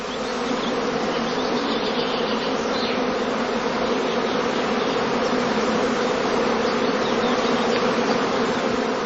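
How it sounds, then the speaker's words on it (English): A honeybee swarm at a heather skep apiary on heathland hums loudly and steadily, a dense, unbroken buzz of many restless bees close by throughout, with no voices. "the bees continue to move about restlessly while humming loudly"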